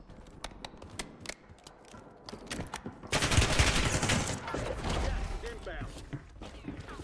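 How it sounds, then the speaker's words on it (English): Gunfire in the Black Ops 6 first-person shooter, rapid bursts of shots and clattering impacts building into a dense, loud volley, with a voice talking over the game. "This gun is busting right now."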